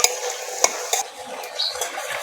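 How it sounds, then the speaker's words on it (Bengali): Homemade lentil dumplings (bori) frying in oil in a pan, a quiet sizzle punctuated by a few sharp clinks and scrapes of a stirring spoon against the pan. "এখানে ডালের বড়ি নিয়ে নিয়েছি ভেজে নেবো"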